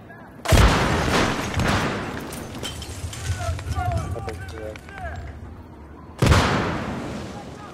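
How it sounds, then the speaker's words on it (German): Two loud gunshot blasts ring out several seconds apart in a squad rush match on the Tehran Highway game map, with game-like rumbling and clattering effects in between. "Ich treffe ihn mit jedem Schuss."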